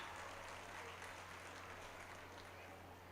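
Faint, distant applause rises from the audience at a school annual day in a hall, a steady, even patter of many hands over a low electrical hum.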